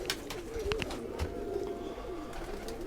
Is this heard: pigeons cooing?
yes